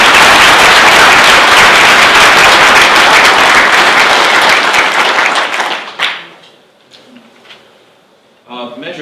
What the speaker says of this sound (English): I'd love a round of applause and acknowledge them.